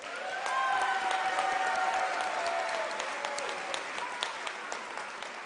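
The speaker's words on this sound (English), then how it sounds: "Let us give her a round of applause." A graduation ceremony audience claps in a dense, steady round of applause that swells early and gradually thins, with faint cheering and ululating cries mixed in.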